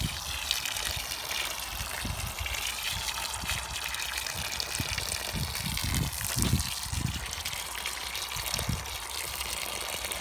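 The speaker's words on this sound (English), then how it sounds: "All I need to do is give them a water." Water gushes steadily from a can or hose onto five freshly planted, firmed-in sunflowers on an allotment, a continuous near splashing and trickling with no talk.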